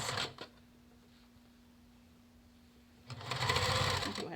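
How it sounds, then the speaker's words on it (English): A sewing machine stitches the bottom edge of a fabric mask at a quarter-inch seam, a brief whir at the start followed by quiet and then a steady, close, rapid burst of stitching. "So you're going to sew the bottom edge together at a 1/4 inch seam allowance."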